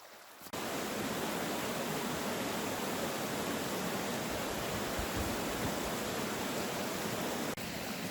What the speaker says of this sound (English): I love the waterfalls and the sound of the water rushing over the rocks